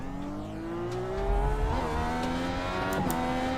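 A Dallara IR18 race car engine in the iRacing simulator accelerates with a steady rising whine that climbs through gear changes, loud and continuous with no talk over it.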